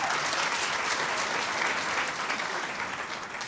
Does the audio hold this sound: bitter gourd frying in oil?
no